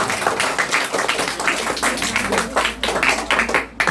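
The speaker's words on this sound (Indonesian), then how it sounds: "Tepuk tangan." A group of around forty children at a Sunday school gathering in a home clap their hands in quick, uneven bursts, close and fairly loud, with no talking.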